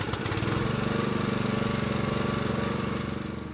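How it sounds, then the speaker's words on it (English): A small petrol engine on a mobile high pressure firefighting unit, started by recoil starter, runs loud and steady close by with a rapid even chugging throughout, alone with no talk. "switch it on, then you can open the fuel, close the choke, and then pull it with a recoil starter."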